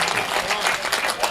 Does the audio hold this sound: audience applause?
yes